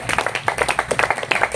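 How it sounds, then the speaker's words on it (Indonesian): A group claps for the second team in a classroom presentation, a short burst of fairly loud, rapid, uneven handclaps from several people. "Yuk, tepuk tangan untuk kelompok 2."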